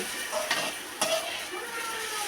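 Food sizzles softly in a pan while being stirred, with a couple of brief scraping strokes over a quiet, continuous frying hiss.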